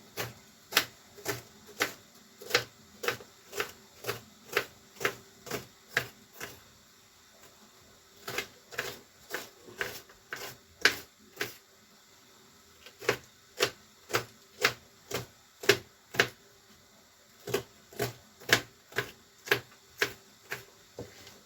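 A knife chops a washed, seeded bell pepper on a board in steady, crisp taps, about two per second, in several runs separated by short pauses, close and clear with no talk.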